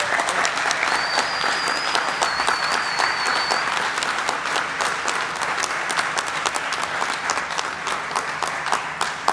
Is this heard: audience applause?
yes